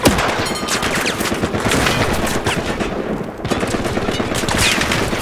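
Sustained automatic gunfire in the video game Battlefield Hardline, dense rapid bursts rattling continuously and loudly for several seconds with barely any pause.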